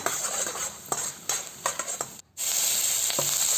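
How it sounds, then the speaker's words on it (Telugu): Urad dal frying in hot oil until brown, a soft steady sizzle broken by several clinks and scrapes of a utensil stirring in the pan, with a brief silent gap near the end. "ఫ్రై అయిన తర్వాత నేను ఉద్దిపప్పు తీసుకుంటున్నాను. అది కూడా కొద్దిగా బాగా బ్రౌనిష్ కలర్ వచ్చేంత ఫ్రై చేసుకుందాం."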